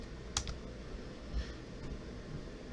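Keystrokes on a computer keyboard while entering a PowerShell command on Windows Server 2016, a few quick clicks close by at low level over faint steady room hum, no voice.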